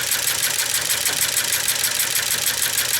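A 1908 Matheson automobile engine with make-and-break ignition runs at about 350 RPM, a steady, close mechanical churn with a strong hissing wash over a low, even beat, continuous and without voices.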